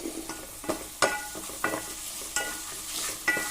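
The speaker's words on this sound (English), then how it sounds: "I'm going to give it a stir" Onions frying with salt in a pot are stirred with a utensil, giving a handful of sharp scraping clacks at irregular intervals over a soft continuous sizzle, close and fairly loud.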